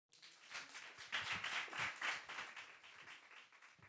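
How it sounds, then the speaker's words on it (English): A live talk-show audience claps for a member coming up with a question, a brief burst of many hands that swells and then tapers off, heard quietly and at a distance. "Y'all clap it up."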